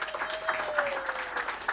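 An audience at a Zimbabwe tourism country presentation claps as a speaker comes on stage, brief moderate applause heard a little distant with some murmured voices underneath.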